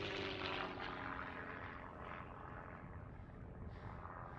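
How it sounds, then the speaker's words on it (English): A propeller airplane passes over the crater of Mount St. Helens, its steady engine drone heard from a distance, fairly faint and gradually fading as it goes by. "Look at a plane going over."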